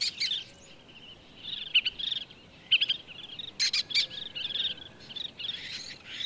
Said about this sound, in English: The birds are nervous.